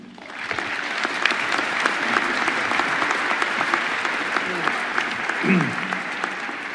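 Audience applause welcoming a commencement speaker at a December university graduation ceremony, steady sustained clapping from a large crowd throughout, with a faint voice near the end.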